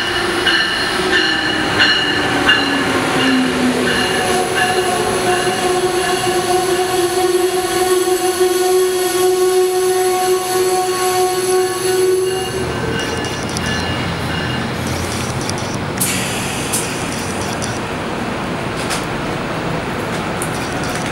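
An Amtrak passenger train hauled by an ACS-64 electric locomotive rumbles into Metropark station with long, loud squealing wheels and brakes, then settles into a steady rolling clatter as it slows.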